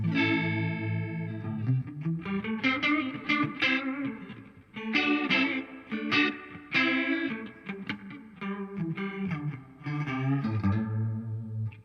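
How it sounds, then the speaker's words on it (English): A guitar plays chords through a Laney LF Super 60-watt 2x12 combo amp's swirling, warbling chorus effect, Leslie-like, with some grit, close and loud, no talking. "that'll give you a little faux Leslie type sounds there."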